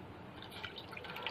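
Water poured into a vessel over palm jaggery, giving a steady, faint trickling and dripping with small splashy spikes, continuous and without speech.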